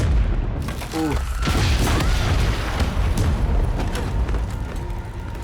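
Dynamite blows up in an animated series with a loud, rumbling boom and crackling debris that fills the clip, while a voice speaks briefly near the start.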